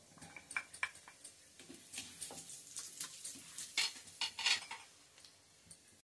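Popu seasoning seeds and turmeric hitting hot oil in a pan for a bitter gourd fry, with crackling sizzle, spoon stirring and pot clatter in irregular bursts at a modest level.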